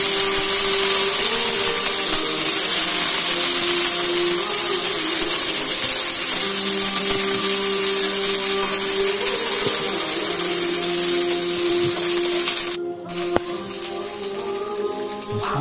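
Ginger and garlic paste frying with browned onions in a pan while cooking a sea bream curry, a steady loud hissing sizzle throughout with a brief break near the end.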